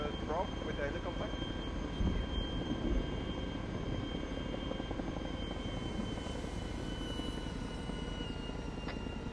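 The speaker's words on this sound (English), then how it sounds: "Are we gonna get high altitude drop with the helicopter?" A helicopter flies in a military video game set during the Falklands War battle for Stanley, a steady loud engine and rotor drone heard throughout, with some faint noises over it.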